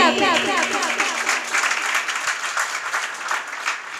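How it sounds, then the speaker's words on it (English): Sustained audience applause at a Teacher's Appreciation Day celebration in an English academy, steady dense clapping filling the hall for several seconds, with a brief voice near the start. "Please keep clapping"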